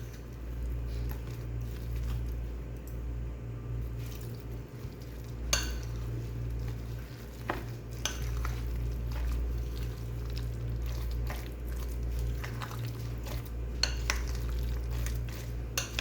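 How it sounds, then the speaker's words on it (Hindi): Soft, steady stirring of a stiff pakora batter with onions in a bowl, occasional spoon clinks, close up, over a low continuous hum. "अच्छी तरह मिक्स कर दूंगी"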